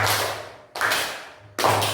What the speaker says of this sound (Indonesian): Tepuk tangan satu, tepuk tangan dua, terus tepuk tangan tiga